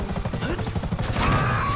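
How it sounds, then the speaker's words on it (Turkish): Helicopter in GTA 5 with a steady rotor chop close by that grows louder toward the end, while a player's voice talks over it. "Oha helikopter. Helikopter gitti aşağıya."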